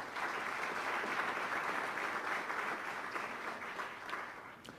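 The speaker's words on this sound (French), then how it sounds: "On les applaudit, oui" An audience applauds scholarship winners at an annual Sport-Études foundation award ceremony, a dense, even roar of clapping that holds steady throughout and tapers slightly near the end.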